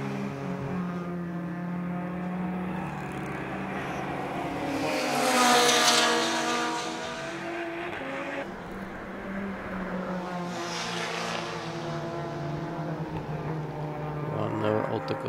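Race cars at the WashCar Riga Summer Race run as a continuous roar, with engine noise swelling as cars pass by around the middle and again near the end, under a steady layer of commentary.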